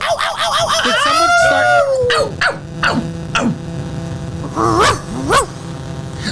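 A dog barks and howls in a sound effect played loudly over a morning show studio, with rising howl glides followed by several sharp barks; people talk and laugh around it.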